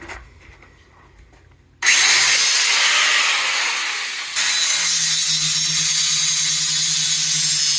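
A power saw cutting clamped wood boards while building a collapsible work table: quiet shop ambience, then a sudden loud, continuous whine of the blade biting through the wood, shifting in pitch partway through and running on without talk.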